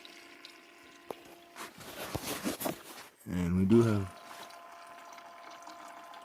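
The small pump in a new ice maker, with a suspected bad compressor and making no ice, pushes water up to the top, giving a brief watery gurgle and then a short low buzzing hum while a person talks nearby.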